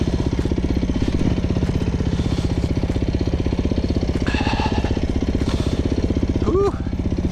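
A Beta 390 RR-S dual sport motorcycle runs along a trail with a steady, close, throbbing single-cylinder engine note, continuous and loud, plus brief bits of voice over the top.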